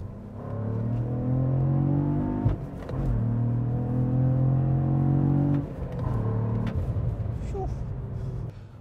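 A manual Cadillac CT4-V Blackwing's engine drones steadily under acceleration in sport mode, with two brief dips between long pulls as gears change, loud and close.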